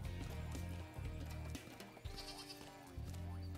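Sheep bleating in the Spyro video game, a few repeated bleats over steady game music, with no talking.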